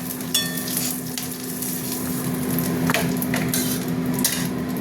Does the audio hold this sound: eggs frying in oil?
yes